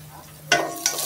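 Onion goes into a pan where garlic is browning in oil, two quick bursts of sizzling and stirring over a low background hiss.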